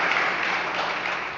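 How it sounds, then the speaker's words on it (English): Applause fills the Michigan House chamber as Rowan's Act, House Bills 4517 and 4518, passes, heard as a brief, dense wash of clapping at steady loudness. "The House chamber erupted in applause Thursday"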